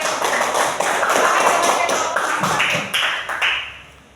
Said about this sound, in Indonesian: Silakan berikan aplaus buat teman kita yang sudah menampilkan atau memaparkan hasil kelompoknya